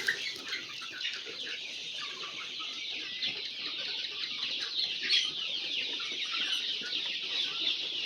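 Sonali chickens give soft, continuous clucking and chatter at a moderate distance, a busy, steady flock texture with no talking over it.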